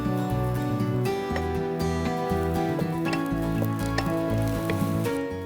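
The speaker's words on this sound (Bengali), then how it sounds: "এখানে হচ্ছে আমার চপ করা গার্লিকটা আমি দিয়ে দিচ্ছি" Chopped garlic hits hot oil in a frying pan, giving a steady, close crackling sizzle with popping spatters that holds for several seconds, with a low rhythmic background pattern underneath.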